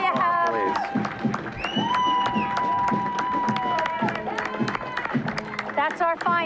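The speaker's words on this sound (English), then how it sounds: "Big round of applause" A large outdoor crowd at a St. Patrick's Day parade applauds and cheers steadily, with claps, whoops and a band's horns and whistles sounding through the continuous noise.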